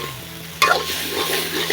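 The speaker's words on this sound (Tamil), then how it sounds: "போட்டு நல்லா கிளறி விட்டு கொஞ்சம் மூடி விடுவோம்" Prawns go into a pan of softened tomatoes for Jaffna prawn curry and are stirred. A sudden loud sizzle bursts in partway through and holds steady with scraping stir noises, and no voices are heard.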